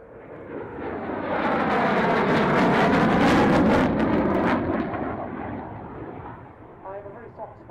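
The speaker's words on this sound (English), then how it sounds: "a very high-speed path coming up now, so stand by for a wheeling noise" A Jaguar jet makes a high-speed, low-level pass, a broad roaring rush that swells to a peak and fades away over several seconds, heard from a distance.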